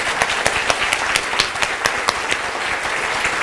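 Steady applause from an audience, with a few louder individual claps standing out rhythmically across the whole clip.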